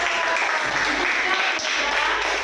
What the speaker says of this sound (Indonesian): Beri tepuk tangan dulu untuk Putra